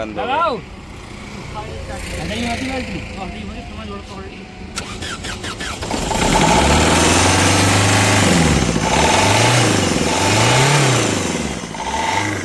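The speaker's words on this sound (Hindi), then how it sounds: "एकदम से रेस दे दी।" A car that has stood unused for seven or eight months during a 15-year-old car restoration cranks and starts, idles roughly, then suddenly revs hard in repeated rising and falling surges close by, with people talking over it.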